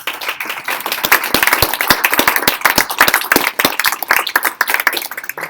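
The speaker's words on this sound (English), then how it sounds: "give a big applause to Kristof because he has been here being ill." Audience clapping after a presentation: a lively burst of many hands, sharp individual claps standing out within steady applause, close and fairly loud throughout with little else beneath it.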